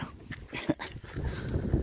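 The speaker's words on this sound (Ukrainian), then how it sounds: "Дуже зла собака." An angry dog snapping at and chewing a ball gives short, rough yips and barks up close, mixed with growly breaths and scuffling, with no voices.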